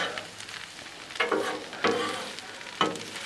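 Shrimp and noodles stir-frying on a Blackstone griddle, a steady hiss of sizzling broken by three louder bursts as the food is pushed and tossed across the hot flat-top, close up and without talk.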